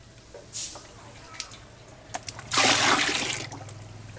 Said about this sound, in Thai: เราก็จะใส่น้ำเปล่าประมาณ 20 ลิตรนะครับ